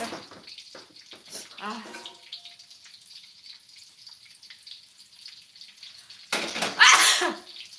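A sneeze bursts out loudly near the end, after quiet speech and kitchen clatter, while someone cooks a meal of potato perkedel, anchovy sambal, soup and pudding; a voice talks briefly before it.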